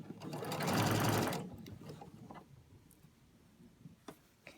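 A sewing machine stitches a fabric scrub hat in one loud, steady run lasting about a second, then stops; faint handling clicks and quiet room noise follow.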